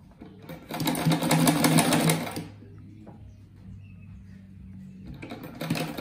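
A sewing machine stitches fabric scraps for a round patchwork rug, running in a loud close burst, pausing under a low hum, then starting again, without speech.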